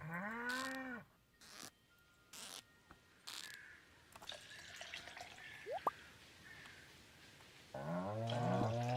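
In the farm game Stardew Valley, a cow gives a few short, synthetic moos with a watery, gurgling quality, spaced apart by quiet gaps and small chimes, ending in a longer low bellow.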